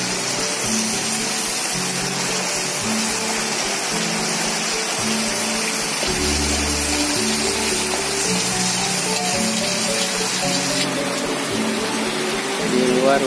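Steady rain falls outdoors, a dense continuous hiss that stays loud and even throughout with no voices over it.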